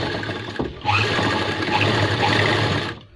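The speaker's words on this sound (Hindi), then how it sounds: "यहाँ पे जो है हमने सिलाई लगानी है आधा इंच की" Sewing machine stitching a half-inch seam on a pant wallet pocket, a steady, close mechanical rattle running for about two seconds after a brief start, then stopping.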